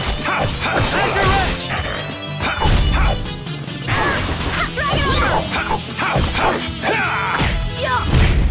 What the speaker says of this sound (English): I hit him up and then Carol just smashed him down